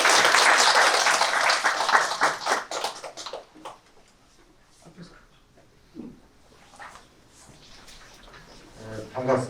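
Applause from a seminar audience welcoming a council chairman, a loud burst of clapping for about three seconds that quickly fades, followed by quieter room sounds and scattered soft noises.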